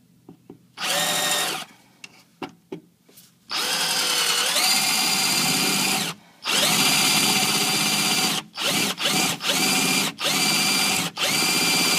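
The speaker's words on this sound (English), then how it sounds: "Drill another hole like further back." A power drill whirs in several bursts while drilling a hole to relocate a rear bumper tab on a Honda Integra, short trigger taps first, then long sustained runs with brief pauses between, loud and close.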